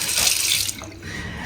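Water runs from the tap into a newly fitted sink in a villa bathroom under restoration, a steady close hiss that breaks off partway and continues more quietly.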